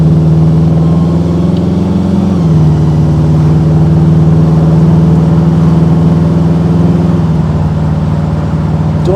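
A custom 1936 Ford Phaeton drives along at about 40 mph, its engine a loud, steady, close drone that shifts pitch slightly twice, with no talk.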